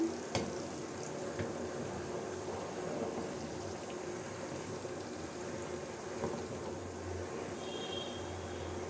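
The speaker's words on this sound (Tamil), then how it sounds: "அதுக்கப்புறம் நல்லா கொதிக்க ஆரம்பிச்சிச்சு பாருங்கள்" Herbal hair oil bubbles and simmers in a pot, a soft, continuous boiling hiss with occasional faint pops and clicks.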